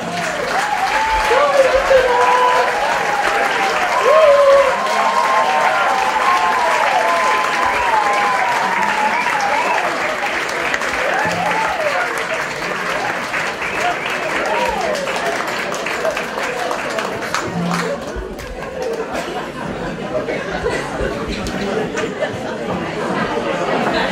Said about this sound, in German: Herzlichen Applaus für die